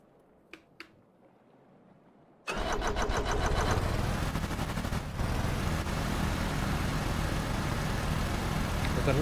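A home-built helicopter's engine starts abruptly after a few faint clicks, jumping to a loud, sustained, rough roar that stays near and steady, revving hard with no clutch engaged.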